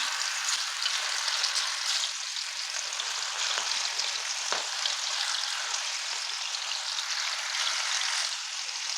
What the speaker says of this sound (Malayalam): ഇനി നമുക്കിത് എണ്ണയിലിട്ടിട്ടൊന്ന് വറുത്തെടുക്കണം